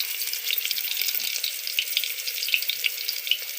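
Chopped onion and a bay leaf frying in hot oil produce a steady, close, loud sizzle that hisses evenly throughout, with small pops scattered over it and no one speaking.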